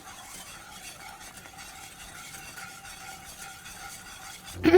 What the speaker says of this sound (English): You're gonna stir it up, adding more gradually so you stay in control